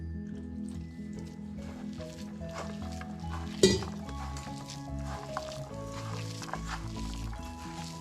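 Wet squishing and stirring as thick idli batter is worked by hand with added water, steady and close, with one sharp clatter partway through.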